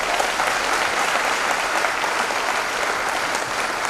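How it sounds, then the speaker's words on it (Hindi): An audience at a Safe Shop direct-selling achievers' day applauds steadily, with dense, even clapping that continues throughout without pause. "मैं चाहता हूँ इन नए मेहमानों का जोरदार तालियों से स्वागत करें।"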